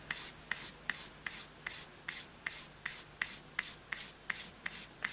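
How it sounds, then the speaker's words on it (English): Grey and white colored pencils blend across drafting film in steady back-and-forth strokes, about a dozen evenly spaced scratchy rasps, close and clear with no talk. "we'll blend in all of this with a grey and also a white pencil"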